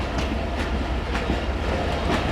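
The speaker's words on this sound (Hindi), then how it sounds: "Finally Lahore junction railway station पर 9:40 ट्रेन हमारी अप्रोच बना रही है।" The Musa Pak Express railcar rumbles steadily into Lahore Junction railway station at night, with a rhythmic clickety-clack of wheels over rail joints under a dense, continuous roar heard from on board.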